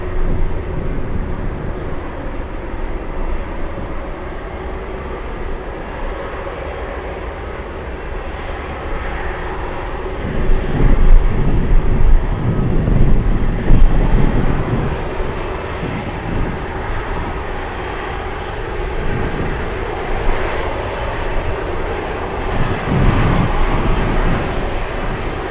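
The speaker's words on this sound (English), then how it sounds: "You hear that? That's the 1900 powering up." A Beechcraft 1900 twin turboprop at Anchorage airport powers up its engines, a loud, sustained droning roar that swells and surges as power builds, heard from nearby with gusty wind and no talking.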